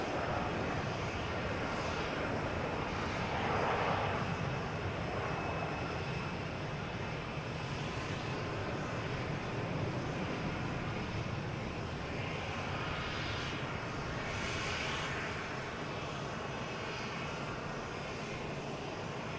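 Airplanes at Boston Logan Airport on a Friday evening: a loud, continuous jet engine roar that swells and fades slightly as aircraft pass, filling the whole stretch, with no clear speech.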